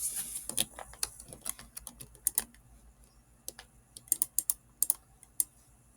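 Typing on a computer keyboard while writing HTML code, with irregular bursts of sharp clicking keystrokes, close and clear, with short pauses between runs of keys.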